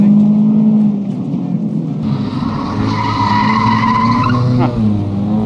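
A racing video game car skids with the handbrake pulled, giving a sustained tire squeal over a revving engine that rises and falls, with a voice commentating underneath.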